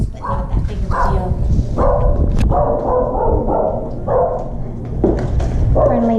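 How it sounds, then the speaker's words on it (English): A neighbour's dog barks outdoors at a house, a run of repeated woofs and yips at moderate distance, close together and fairly loud. "Friendly neighbor dog over there."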